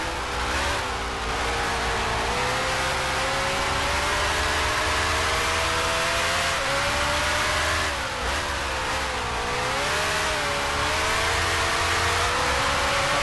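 A racing car in the Grand Prix Legends video game roars at high revs, with the engine note dipping and climbing as it brakes and accelerates through corners. The sound is loud and continuous, with no talking.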